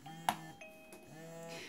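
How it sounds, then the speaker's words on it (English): A wireless attendant call button chime sounds once with a sharp ding, then fades into quieter tonal ringing and a low hum, close and alone without talking. "in order to make the chime go off"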